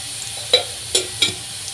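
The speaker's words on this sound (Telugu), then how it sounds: "కూర పోపు వేసేసుకుంటున్నాను." Urad dal and cumin crackle in a steel kadai as a tempering fries, with three sharp spattering pops over a soft background hiss.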